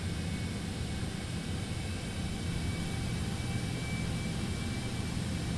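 A Citation X business jet taxis in a flight simulator, its engines producing a steady, even broadband roar with a faint high whine that holds without change throughout.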